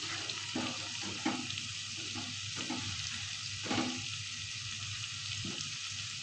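Okra frying in a pan with potatoes and soy sauce, a steady sizzle broken by scraping and clacking as it is stirred at an uneven rhythm, close and alone without speech.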